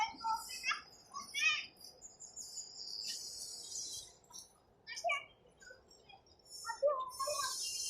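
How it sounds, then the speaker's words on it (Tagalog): Birds chirp outdoors in Makati City, Philippines, in scattered bright calls and tweets over a faint background of insect trills, moderately close and without talk. "May mga bagong ibon, ganda rito guys, May bagong ibon"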